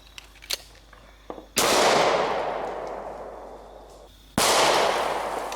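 Two loud .45 ACP +P jacketed hollow point pistol shots fired outdoors, each a sharp sudden blast followed by a long decaying echo, spaced a few seconds apart after faint small knocks.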